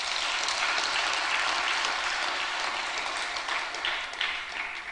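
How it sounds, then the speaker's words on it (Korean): A church congregation applauds, producing a dense, steady wash of many hands clapping that holds for the whole stretch and tapers slightly near the end, with no voices standing out. "박수 한번 쳐줘요"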